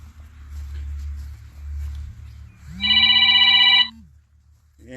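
A telephone rings loudly in one bright, trilling burst lasting about a second, after quiet outdoor background with low rumble and faint movement.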